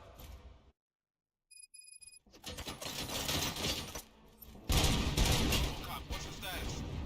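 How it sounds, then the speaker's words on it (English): Gunfire erupts in the RoboCop Rogue City video game: after a brief silence and a few electronic beeps, loud crackling bursts of shots build and intensify into a heavy barrage. "Gunshots?"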